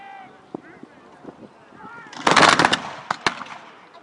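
A musket volley fired by ranks of reenactment troops three deep at a history festival: one loud, dense crackling burst of many shots around the middle, followed by a few scattered late reports, with murmuring voices before.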